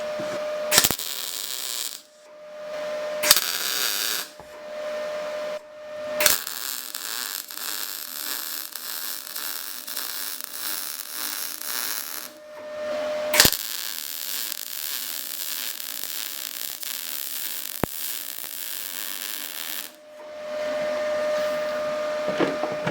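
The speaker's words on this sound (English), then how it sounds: "And now I'm just going to run a weld across here and across the other side, trying to disperse the heat evenly." Welding a cafe racer mudguard on a Honda CG125, several bursts of steady crackling buzz of varying length, separated by short gaps and sharp clicks, recorded close.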